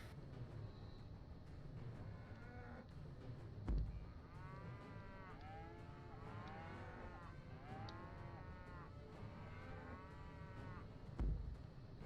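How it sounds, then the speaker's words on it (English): Cartoonish cows in the Rock of Ages boulder-rolling game give several drawn-out moos over a steady low game rumble, with two dull thuds along the way. "I like how the cows start rolling."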